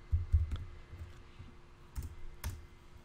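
Keystrokes on a computer keyboard while a theme name is entered in a design program: a quick burst of clicks, then a few isolated taps, close and fairly quiet.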